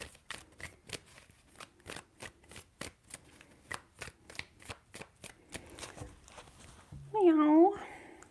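Tarot cards shuffled with a steady run of crisp, evenly spaced flicks and slaps, close and soft, before a brief meow-like sound near the end.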